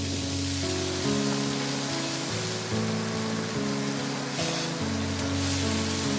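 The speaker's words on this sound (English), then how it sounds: "Then in the same oil, we'll add around 3 teaspoons of onion paste." Onion paste sizzles in hot oil in a pan with a steady, dense hiss that holds for the whole stretch, while tonal music plays underneath.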